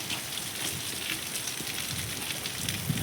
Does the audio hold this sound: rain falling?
yes